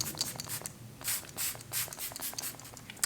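A facial mist is sprayed from a bottle in several quick hissing bursts, close and fairly crisp, with soft rubbing and handling sounds between them.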